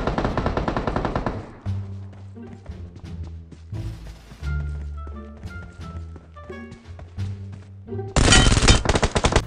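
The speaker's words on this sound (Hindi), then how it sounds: "ये बॉट फायरिंग दे रहा था" Rapid automatic gunfire from an enemy bot in the mobile battle royale game BGMI, loud dense bursts at the start and end, with tonal game music in between.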